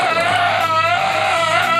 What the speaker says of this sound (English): And Belial looks and sounds like this.